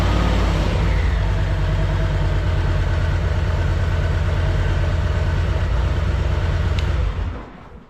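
A running car engine idles steadily, a dense low rumble with a slight mid-range rise near the start, holding loud and close until it cuts off abruptly near the end.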